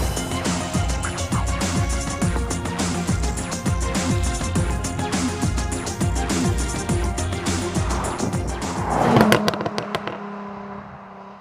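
A 2013 Porsche Cayman with a PDK dual-clutch automatic accelerates hard, its engine note climbing steadily and loudly through the gears, then fading away near the end.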